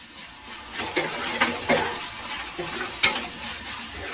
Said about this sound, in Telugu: ఇప్పుడు మనం అల్లం వెల్లుల్లి పేస్ట్ వేసుకుందాం.